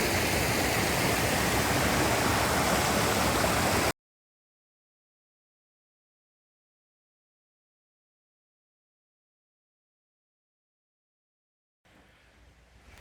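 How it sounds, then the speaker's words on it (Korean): Rushing valley stream water in a Danyang gorge, Chungbuk, pours loudly and continuously for a few seconds, then cuts to silence before faint noise returns. "물소리 들리시죠?"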